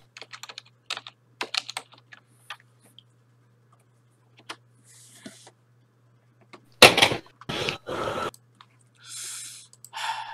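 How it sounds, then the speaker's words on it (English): Bursts of computer keyboard typing, clicky and close, come in scattered clusters with pauses between, alongside a few louder knocks and short rustling noises in a quiet room. "I'm just typing this"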